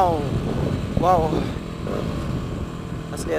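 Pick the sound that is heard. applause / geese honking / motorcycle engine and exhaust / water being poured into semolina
motorcycle engine and exhaust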